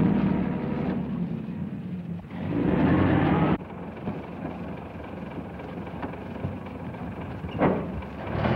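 A car approaches in a 1937 film scene, its engine a dull rumble that swells for about a second mid-clip, then settles into steady low noise under a faint hiss, with no talking.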